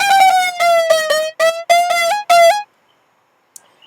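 A bright trap lead synth from Ableton's Analog, with chorus and distortion, plays a short, buzzy, harmonically rich melodic phrase of choppy notes with slight pitch slides, loud and up front, then stops abruptly into silence.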